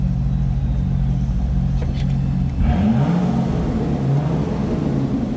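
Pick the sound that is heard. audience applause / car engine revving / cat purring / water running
car engine revving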